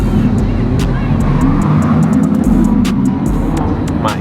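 A Bugatti supercar rolls in close and loud with a deep, rumbling engine note, surrounded by crowd chatter and other nearby vehicle noise at a supercar gathering.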